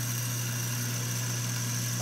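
A wood lathe spinning a wooden top being turned, a steady constant motor hum with a fixed tonal whine, continuous and close with no talk.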